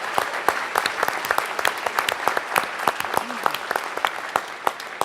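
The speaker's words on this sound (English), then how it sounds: "So give the MLK Freedom Center another round of applause" A lecture-series audience applauds the MLK Freedom Center with dense, steady clapping that carries on without a break, close and lively, with no voices over it.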